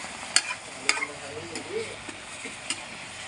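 Fresh beef khua om stir-fried in a hot pan, a steady crackling sizzle with sharp clinks of the utensil against the metal at intervals.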